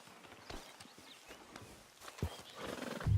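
A horse in the Red Dead Redemption 2 video game snorts and whinnies while its hooves clip-clop at a walk, fairly quiet and sparse at first and then louder toward the end.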